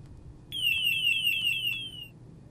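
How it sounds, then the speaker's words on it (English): A G450 portable gas detector goes into alarm during an ecoBump test, giving a loud, shrill electronic tone that warbles in rapid repeating pulses for about one and a half seconds before it stops. "It should take less than 20 seconds for the alarms to sound once the gas has been applied"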